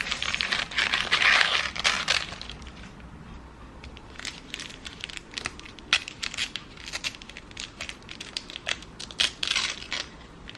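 Scissors cut around tracing paper laid on a t-shirt, giving repeated crisp snips and papery crinkling, close and fairly loud, in irregular bursts with no talking.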